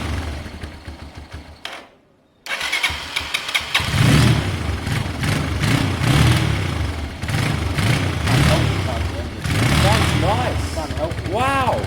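A carburetted motorcycle engine with the choke on cranks, stops briefly, then fires and settles into a loud, throbbing idle with a prominent exhaust note, close by; voices talk over it.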